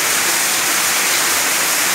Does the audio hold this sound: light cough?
no